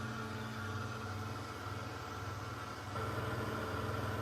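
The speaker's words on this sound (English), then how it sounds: "Sorry for the drying noise." Constant whirring hair dryer blower hum drying paint, steady and fairly quiet, slightly louder toward the end, with no talking.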